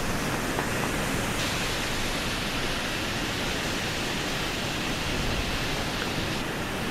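The steady roar of Niagara Falls pours down with spray falling all around. It forms an unbroken, dense wash of water noise at moderate level, with no breaks and no voices.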